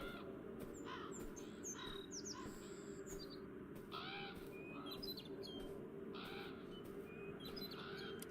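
Scattered bird chirps and tweets in the video game Beyond Eyes ring out over a steady low background hum, moderately faint and spread across the whole stretch.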